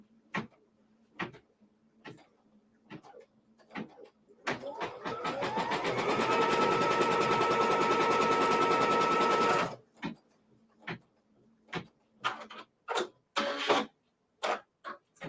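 A sewing machine runs in one steady, loud burst of about five seconds, tacking down a quilt block piece of fabric. Short clicks and handling taps from adjusting the fabric come before and after the stitching.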